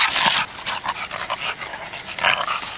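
During outdoor gun dog training, a dog pants loudly and close by in quick, rhythmic breaths, with a few brief bursts of stronger huffing and no speech.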